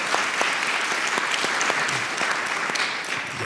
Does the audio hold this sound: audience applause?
yes